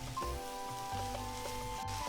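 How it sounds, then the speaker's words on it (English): Masala sizzles and sautés in oil in a pan, a soft steady frying hiss close by with faint tonal hum behind it and no talking. "I am going to saute this masala till oil comes out from it."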